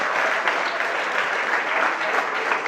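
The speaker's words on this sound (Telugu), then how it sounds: "అందరూ ఒకసారి గట్టిగా చప్పట్లు కొట్టి సార్కి ధన్యవాదాలు తెలియజేస్తున్నాం సార్" An audience at a Telangana school talk by a nodal principal on studies and exams claps steadily and densely, a continuous wash of many hands, loud and close, with no voices over it.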